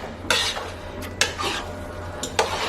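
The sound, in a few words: stirring beefaroni in a pot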